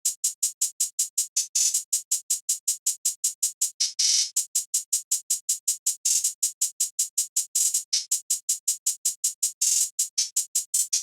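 A programmed Starstruck multi-kit hi-hat in FL Studio ticks in a fast, even pattern of crisp bright hits, with a few short rolls and open accents, played alone.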